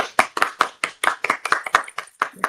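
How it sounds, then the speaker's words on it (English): Rapid hand clapping from a small group, about a dozen sharp claps in an uneven rhythm, close and fairly loud. "Let's clap."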